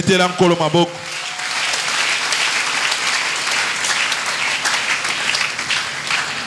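A church congregation at a French-language seminar with a bishop breaks into sustained loud applause and cheering that fills the room after a brief spoken phrase at the start.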